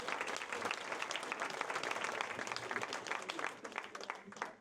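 An audience applauds steadily for several seconds at a school's 60th anniversary celebration, a dense wash of clapping heard from a slight distance before it tapers off.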